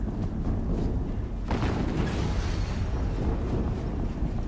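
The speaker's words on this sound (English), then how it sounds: "Another explosion." A booming explosion erupts in Horizon Zero Dawn, a sudden loud burst followed by a rumbling roar and debris-like crackle that slowly fades over a continuous low background rumble.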